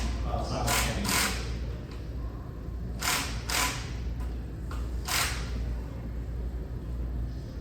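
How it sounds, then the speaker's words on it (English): A ten-spindle multi-spindle torque unit runs down the cam caps on a Corvette performance engine, giving bursts of mechanical whirring and ratcheting with short hissing spurts over a steady shop hum. "we have another big 10 spindle multi-spindle unit that will come torque all those cam caps down simultaneously"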